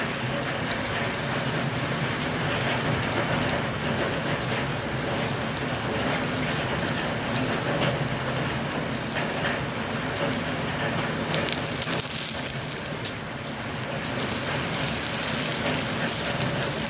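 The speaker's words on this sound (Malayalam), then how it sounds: "അരിഞ്ഞു വെച്ച ചെറിയ ഉള്ളിയാണ് ഇട്ട് കൊടുക്കുന്നത്." Chopped shallots fry in hot oil in a pan with curry leaves, making a steady, dense sizzle that crackles close by throughout.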